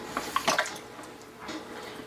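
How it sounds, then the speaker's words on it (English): Whole milk poured from a cup into soup in an Instant Pot, a soft liquid splash and trickle lasting about a second, fairly close, followed by faint quiet handling. "we're going to add some whole milk, a cup of whole milk right to it"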